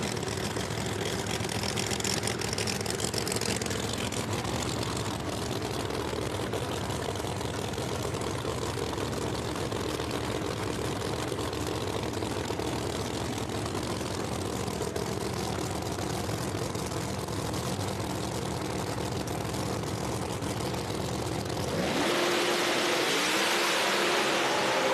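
A no-prep drag race car idles at the starting line at National Trail Raceway, a continuous rough, broadband engine rumble under distant track noise. It swells louder and harsher near the end.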